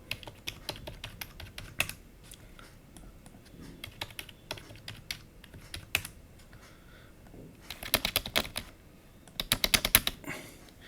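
Someone types on a computer keyboard to fill in a form, with sharp clicking keystrokes in uneven runs, quiet pauses between bursts and faster clusters near the end, close and alone without talk.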